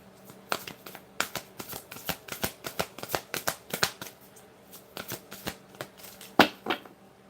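Tarot cards riffle and slap down in a quick, uneven run of crisp, papery flicks, close and fairly loud, with a sharper snap near the end and no talking.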